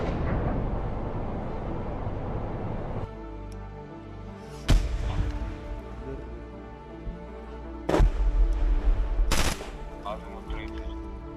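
An advancing tank convoy fires on troops in combat: a few sharp, loud gunshot cracks ring out separately against a low mechanical drone, with steady rushing noise early on.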